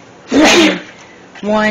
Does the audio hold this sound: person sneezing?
yes